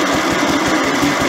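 Lister engine driving a generator, giving a loud, steady idling chug with a fast even low thump and mechanical clatter on top, close up and with no pauses.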